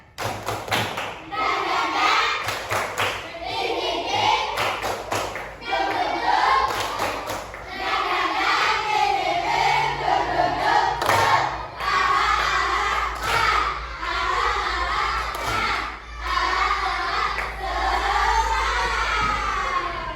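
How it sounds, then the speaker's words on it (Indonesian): A fifth-grade class performs a rhythmic spirit clap in unison, dense patterned bursts of hand claps and thumps repeating steadily, loud and near, with children's voices chanting over the clapping. "Tepuk semangat."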